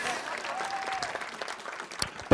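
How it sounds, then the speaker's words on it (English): A round of applause at a Sister Cities annual meeting, moderately faint and thinning out, a crowd clapping with a few sharper individual claps near the end. "give her a round of applause"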